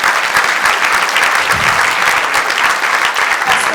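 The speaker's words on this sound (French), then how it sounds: "Je crois que ça mérite vraiment des applaudissements." Loud, steady applause from a crowd, dense clapping filling the whole stretch without pause.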